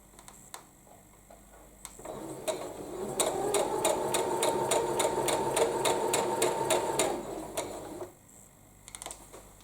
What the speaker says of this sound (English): Stop just before that second pin, and then just sew off the edge.